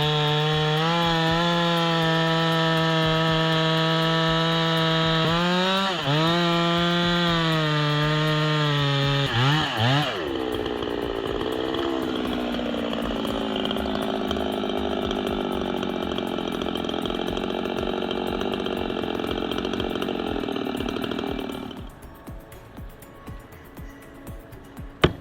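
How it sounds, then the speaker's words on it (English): A chainsaw fells a large tree in a Canadian forest, cutting the undercut notch. It gives a loud, steady engine whine that dips and revs under load, then turns into a rougher, fluctuating cutting tone before dropping away near the end. "The felling begins with the undercut, a precise notch carved into the trunk to guide the fall."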